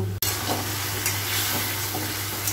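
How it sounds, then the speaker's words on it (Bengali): Onions frying in hot oil with ground cumin and coriander powder, a steady close sizzle broken by a sharp stirring scrape near the start, with a low hum running underneath. "এই মশলাটা এবার আমি আমি এবার পেঁয়াজ ভাজার মধ্যে দিয়ে দিব"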